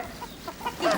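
Chickens clucking in a comedy scene, short soft clucks close by, rising toward a louder squawk at the end.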